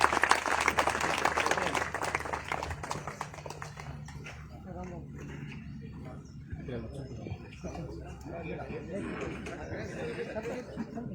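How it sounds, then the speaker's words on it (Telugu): Audience at a stage event in Telugu applauding, a dense patter of clapping strongest at first and then thinning out under crowd chatter. "చప్పట్లు కొట్టండి."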